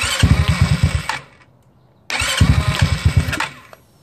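A GY6 scooter engine cranks and catches twice, each time a loud, close, pulsing putter that runs about a second before cutting out to near silence, with no voices.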